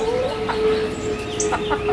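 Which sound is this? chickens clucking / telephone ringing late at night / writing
chickens clucking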